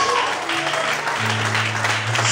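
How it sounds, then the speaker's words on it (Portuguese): A church congregation claps loudly and continuously during worship, the applause blending with sustained tones of music or organ underneath. "glorifique e aplauda o Senhor bem forte"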